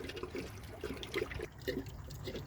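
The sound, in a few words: water draining out of a Hayward pool filter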